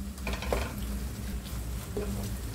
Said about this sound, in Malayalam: ഇനി നമുക്കിത് പച്ചമണം മാറുന്നവരെ ഒന്ന് നന്നായിട്ട് വഴറ്റി കൊടുക്കാം.